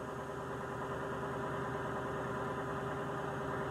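An HMMWV engine idles steadily at a constant low, even drone with a faint tonal hum and no change in pace, moderately quiet and alone.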